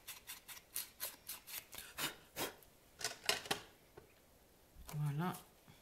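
Paper card edges being darkened with an ink pad for a Christmas accordion card, a run of short dry rubbing and scuffing strokes at close range, steady and repeated, with no talking.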